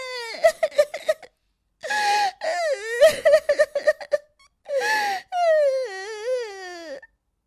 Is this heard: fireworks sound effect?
no